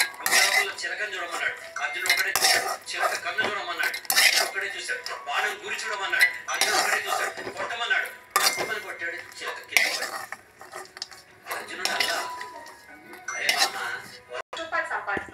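Cooled roasted peanut mixture is scooped from a pan into a mixer jar, with repeated close clinks and scrapes of a spoon against metal and some voice in the background.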